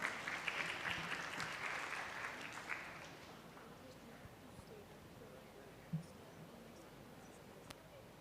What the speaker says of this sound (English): A huge round of applause for them, everyone.